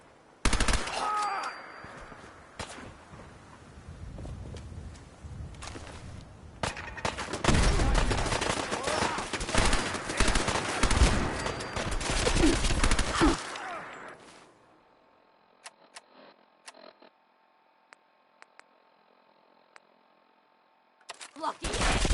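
Gunfire in Fallout 4: about six seconds of loud, dense automatic bursts and rapid shots, then it drops to quieter scattered sounds and ends with one more burst.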